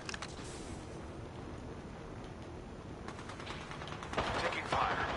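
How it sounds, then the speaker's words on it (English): Gunfire rattles in Apex Legends in rapid bursts, dense and sharp, growing louder toward the end amid game sounds. "Taking fire."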